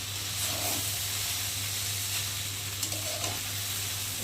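Shop-style chow mein frying in a pan gives a steady, close hiss and sizzle, with a low hum beneath and a few soft scrapes of stirring near the end.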